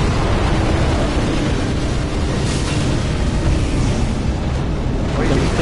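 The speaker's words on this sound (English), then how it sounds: "Watch out for the fire." A fire attack roars in Dark Souls 3, a dense, steady rumble of flame and blasts that holds at high loudness from start to finish.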